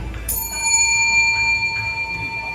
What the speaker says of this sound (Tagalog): when your time is up, you have to hear this bell